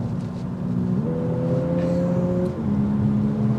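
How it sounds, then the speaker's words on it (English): Steady hum of a 2023 Lexus UX 250h F Sport hybrid engine running, a low droning tone that rises in pitch briefly midway before settling back, continuous and fairly close with no talk. "I could actually hear the engine before I hear it escalate through the speakers"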